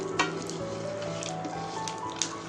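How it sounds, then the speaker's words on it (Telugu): Cashews roast slowly in a pan over a low flame for dry fruit laddu, giving a steady, soft sizzle with light crackles and an occasional tap of stirring, close and continuous. "ఇప్పుడు ఇవి స్లిమ్లో పెట్టుకొని బాగా వేయించుకోవాలి"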